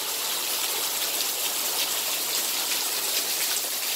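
Heavy rain pouring down in the Vietnamese countryside, with water overflowing, forms a dense, loud, unbroken roar of drops and rushing water that fills the whole stretch without any voices.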